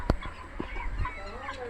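Chickens and roosters at a poultry farm, a few scattered clucks and short calls over a low background murmur, nearby but fairly quiet.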